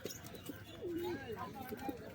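Pigeons coo at an outdoor pigeon market, a few low drawn-out coos rising over steady crowd chatter and nearby talk.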